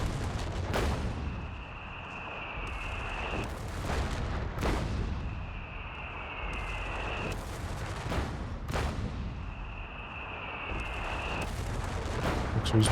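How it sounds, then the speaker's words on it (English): Artillery barrage from an M8 Scott in the video game Company of Heroes 3, several heavy booms with a whistling shell tone recurring at regular intervals, over a low rumbling battlefield bed. "you can barrage an 88 with a Scott and not get hit in return"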